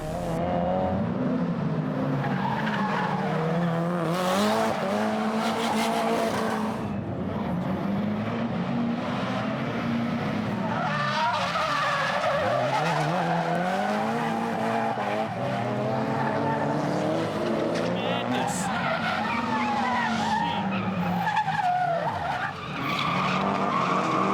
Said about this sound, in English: With over 450 horsepower, and more grip than most drifters, it's a challenge to drift.